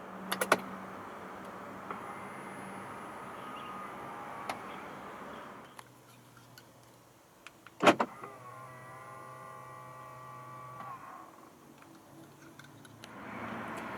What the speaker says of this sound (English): Upon turning on the ignition, the mirrors will automatically fold out